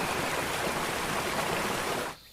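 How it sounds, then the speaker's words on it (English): Water rushing through a Japanese forest in spring, a dense, steady broadband roar like a nearby stream that cuts off abruptly near the end. "The forest explodes with bird song and water rushing from all around."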